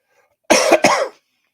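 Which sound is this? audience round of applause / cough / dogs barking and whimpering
cough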